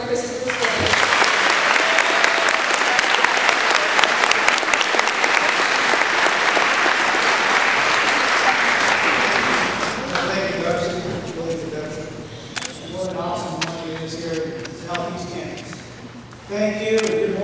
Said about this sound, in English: Please join me in a round of applause for our guest speaker, Colonel Christopher Spillman.